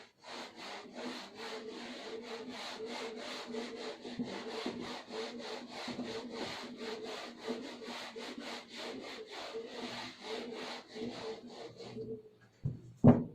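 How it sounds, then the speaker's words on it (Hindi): Rubbing out writing on a board, a rapid rhythmic back-and-forth scrubbing that runs steadily for about twelve seconds, close and moderately loud, then stops with a couple of knocks. "नेक्स्ट इसको मैं रब कर देती हूँ।"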